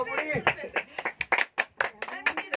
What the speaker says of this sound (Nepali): खै थपडी